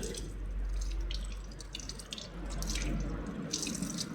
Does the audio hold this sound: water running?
yes